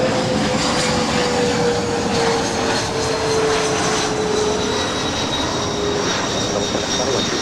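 SkyWest Airlines CRJ 200LR regional jet on takeoff roll from runway 24 left at LAX, a steady loud engine roar with a high whine holding throughout.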